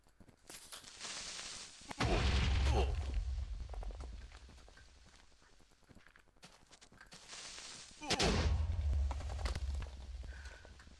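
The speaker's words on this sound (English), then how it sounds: "Four explosions in a row." Two heavy booming blasts from Minecraft creepers, each a loud low rumble with a crackling tail, about six seconds apart, with quieter game sounds between them and no talking.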